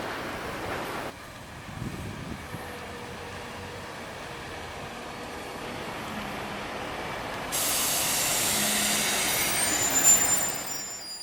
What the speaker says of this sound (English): We are on the 757 bus now.